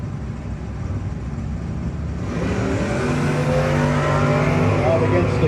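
Drag racing cars, one a Camaro, launch at the No-Box 660 Shootout: a low rumbling idle gives way to a loud, building engine roar that holds steady as the cars pull away.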